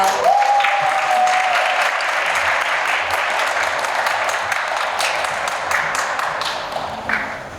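A seated audience claps steadily to welcome a speaker to the stage at a Hangul Day speech contest, a dense sustained round of applause with no talking that fades slightly toward the end.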